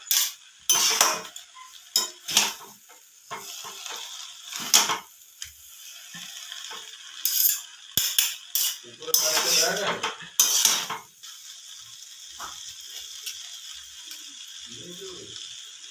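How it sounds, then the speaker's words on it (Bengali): Two metal ladles toss chowmein noodles in a large home wok, producing bursts of sharp clanking and scraping against the metal in an irregular stirring rhythm, with brief quiet pauses and a little talk. "এইভাবে দুটো খুন্তির সাহায্যে নাড়িয়ে নিতে হবে।"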